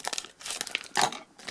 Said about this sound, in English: I do remember feeling that Speedy was in a plastic bag.